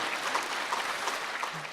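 Applause at a Buddhist Seongdo-jae Dharma ceremony fills the space with a steady, dense wash of many hands clapping, moderately loud and continuous throughout the short moment.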